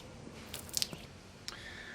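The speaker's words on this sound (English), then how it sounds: "So you're going to want to wash this and dry it off." Wet wiping and rinsing of a granite countertop edge between polishing grits, with soft squishing, a few drips and light cloth rubs, faint and close with no talking.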